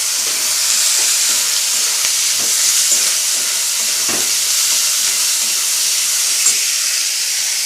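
Potatoes and onions frying with Bombay duck fish in a pan, a steady dense sizzle and hiss throughout with faint stirring scrapes, close and continuous with no talking.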